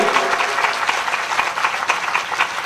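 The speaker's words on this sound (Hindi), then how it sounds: "ऐसे महापुरुष के लिए कौन ताली नहीं बजाएगा? मैं बजाता हूं भाई।" An audience at a Hindi spiritual discourse in Hoshiarpur applauds the speaker with steady, fairly loud group clapping in a close indoor space for a few seconds, with no voice over it.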